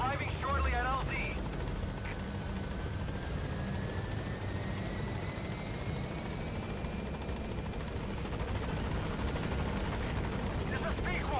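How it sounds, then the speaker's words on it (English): A video-game helicopter arrives at a landing zone, its steady rotor thrum and engine whine continuous throughout, with a voice talking over it. "you have to call on the chopper"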